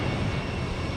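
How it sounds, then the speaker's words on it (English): A Delta Boeing 717 jet airliner at Houston Intercontinental airport, a broad steady engine roar at moderate distance with no breaks. "Here's a Delta 717"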